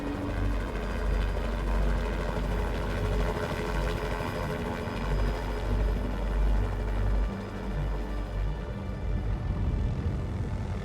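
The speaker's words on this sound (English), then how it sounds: "All of a sudden I hear this helicopter flying overhead" A loud helicopter drones steadily with rapid rotor chop over an active volcano crater, the throbbing engine roar filling the scene as it passes close overhead.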